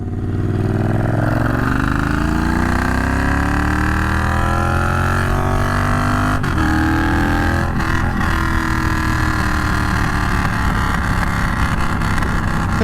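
A Triumph Bonneville Bobber factory bobber motorcycle engine runs loud and close, revving up in a rising pitch sweep, then holding a rough, throbbing steady note with a brief throttle blip partway through.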